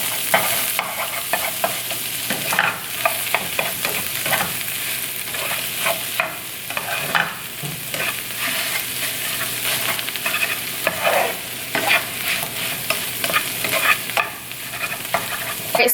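Food mixed with garlic powder and chili oil is stirred and tossed, giving repeated wet scraping and clattering strokes over a bright, steady sizzle, close and fairly loud with no voices.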